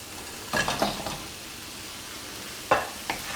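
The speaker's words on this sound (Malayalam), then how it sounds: "ഇതെല്ലാം ചേർത്തൊന്ന് മിക്സ് ചെയ്തെടുക്കാം." Fried fish is stirred into a masala gravy in a pan, giving a few close scraping stirs over a soft, steady sizzle, with quiet gaps between the strokes.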